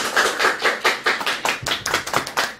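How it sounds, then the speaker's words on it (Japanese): A small group gathered for a homecoming party claps briskly, about a dozen distinct claps in an uneven rhythm, close by and fairly loud, with no talk over them. "拍手。"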